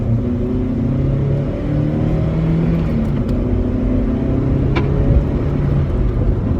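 A Toyota Celica sports car accelerates, heard from inside as a steady, loud low engine drone with rising harmonics and road rumble, no talking.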